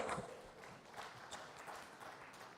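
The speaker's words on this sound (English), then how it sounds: "Let's welcome them with a round of applause." Faint, distant applause rustles through the hall at an annual general meeting and awards function as guests take their places on the dais. A soft, steady wash of clapping continues without clear individual hits.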